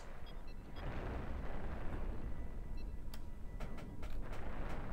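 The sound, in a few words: ship weapon shots hitting defenses in video game Cosmoteer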